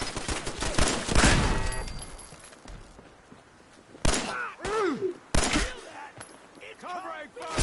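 Gunfire in Fallout 4 in a burst of sharp shots with rattling tails, then two more loud isolated reports later on, with game sounds and quieter stretches between.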